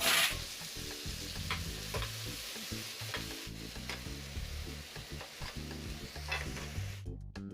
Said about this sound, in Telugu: సన్నగా తరిగిన ఎర్రగడ్డలు 2 గడ్డలు ఇవి వేస్తున్నాను.